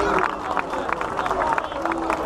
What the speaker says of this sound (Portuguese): uma grande salva de palmas e muito obrigado pela vossa participação